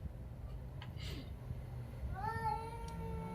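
A pair of cats quarrel with drawn-out, rising meows and wails, the clearest cries arriving in the second half over a steady low hum, fairly close and loud.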